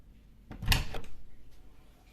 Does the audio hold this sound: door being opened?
yes